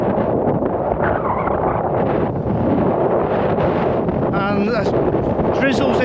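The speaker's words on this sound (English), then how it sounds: "But it's super windy" Strong wind buffets the microphone on Anglezarke Moor, a steady rough roar that runs the whole time with gusty surges and no letup.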